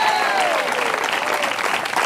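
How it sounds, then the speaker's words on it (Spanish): A church congregation gives a short burst of loud, dense applause, steady throughout with a faint murmur of voices underneath. "Denle fuerte aplauso a los cuatro que dijeron."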